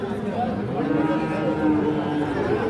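At a bull market selling Friesian and crossbred bulls, cattle give a low, drawn-out moo amid steady crowd chatter and background noise.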